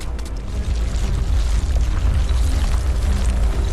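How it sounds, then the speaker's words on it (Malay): Several electricity transmission towers toppling during flooding at the Kenyir power station area: a loud, continuous rumbling roar of heavy crashing debris and rushing force, dense and sustained throughout without any voices. "Tiba-tiba, beberapa menara menyembah bumi."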